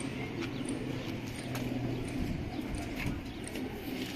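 Soft, low pigeon cooing from birds in a breeder's loft, repeated murmuring coos against steady background noise, faint and fairly close.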